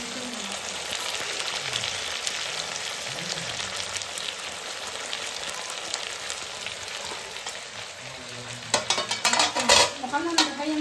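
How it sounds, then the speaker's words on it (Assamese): Potatoes fry in hot oil for a chicken curry, a steady close sizzle with scraping stirs throughout and a louder burst of clattering, stirring noise near the end; no one speaks. "আলুখিনি অলপ সময় ভজাৰ পাছত বিলাহী দিয়া হৈছে"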